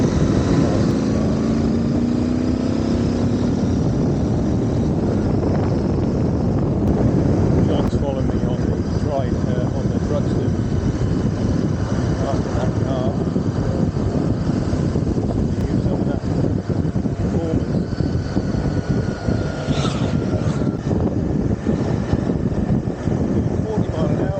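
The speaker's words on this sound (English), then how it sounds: "I'm in 5th gear now at 30 mile an hour, 5th gear. Just trundling along, no vibration." A Triumph Thruxton 1200 motorcycle cruises in fifth gear at 30 mph, a steady low engine drone mixed with wind rush, continuous and close throughout, with no one speaking.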